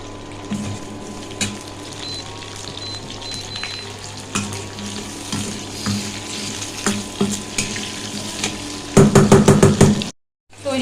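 Spices and tomato for chilli chicken sizzle and fry in a pan, close and continuous, while a spatula stirs with scattered knocks and scrapes, ending in a burst of rapid clattering strokes before a brief silence.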